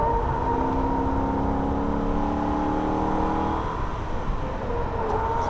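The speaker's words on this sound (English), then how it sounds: "Quick tap into second gear just for a very short period and then wide open into third." A Holden VF Ute's engine roars loud and steady at full throttle on the Nürburgring, its rising harmonic drone climbing through the gears before easing slightly near the end, with wind and road noise underneath.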